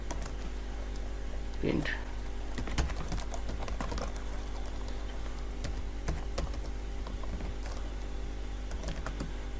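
Keys clatter in quick irregular bursts on a computer keyboard as a short line of Python code is typed, soft and close, with someone speaking over the clicking.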